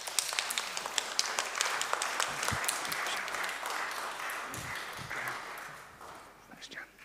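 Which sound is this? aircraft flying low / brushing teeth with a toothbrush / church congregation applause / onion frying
church congregation applause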